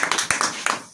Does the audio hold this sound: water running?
no